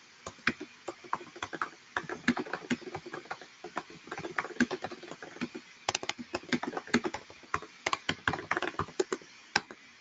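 Rapid, uneven keystrokes on a computer keyboard clatter in bursts with short pauses, close and fairly quiet, during a command-line session in an Android security testing class.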